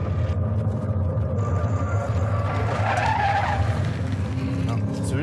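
A Jeep Grand Cherokee Trackhawk SUV skids with a steady rough tire roar and a brief squeal, loud and continuous under engine noise.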